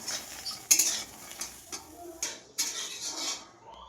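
Dry fruits being roasted in a pan over a low flame, with intermittent clinks and scrapes of a utensil stirring them against the metal, close and fairly quiet, with no talking.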